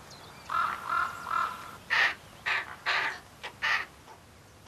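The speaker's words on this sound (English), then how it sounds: "High on the rock walls, many pairs of ravens already have young chicks." Ravens calling at their breeding rock walls in an alpine valley during nesting season, a string of hoarse caws and croaks in quick bursts at moderate distance, alone without speech.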